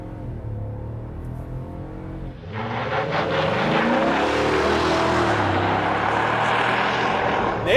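A 2023 Ford F-250 Tremor with the 7.3-liter V8 accelerates hard in manual mode, its engine swelling from a low idle-like rumble into a loud, sustained roar heard from inside the cab.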